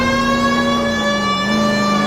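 Police siren in the L.A. Noire video game: a loud, steady, continuous wail with a slight dip in pitch partway through, sounding alone with no talking.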